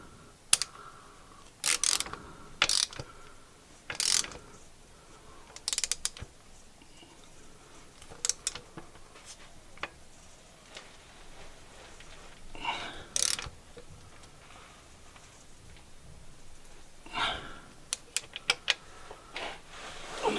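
Ratchet tightening a transmission oil drain screw on a Skoda Octavia manual gearbox, a series of close, sharp irregular clicks and brief ratcheting bursts with quiet gaps between.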